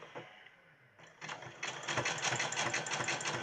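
Sewing machine running a zigzag stitch on fabric for a gift bag, a quiet start that rises into a fast, steady rattling whir of needle strokes, close and alone.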